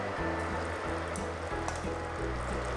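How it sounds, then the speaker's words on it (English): Tomato beef stew bubbling in a pot, a constant close hiss and sizzle with a soft, steady bed of bubbling underneath and no voices. "Continue to stew this for about 3 to 5 minutes to soften the tomatoes."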